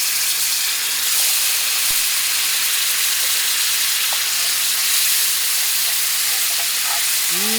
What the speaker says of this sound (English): this is the time to put in your chicken broth